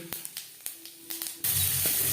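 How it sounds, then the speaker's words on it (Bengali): A few light taps of whole cumin seeds going into a wok, then a sudden loud, steady sizzle as they hit hot oil left from frying lentil dumplings, close up and continuing to the end. "বড়ি ভেজে নেওয়া কড়াইতে দিয়ে দিলাম গোটা জিরে"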